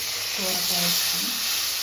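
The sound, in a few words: bottle gourd and tomato stirred into sizzling tempering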